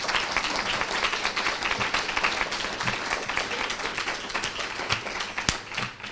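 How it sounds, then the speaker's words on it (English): Audience applause at a lecture: dense, steady clapping from many hands fills the room for about six seconds, loud and sustained with no voices over it. "Georgina, I think you deserve an applause."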